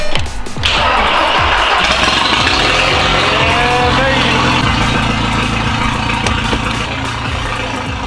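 An Audi TT cold-starts with a sharp burst and then settles into a loud, steady idle. The engine hums continuously with a low, even throb, close to the microphone, for the rest of the stretch.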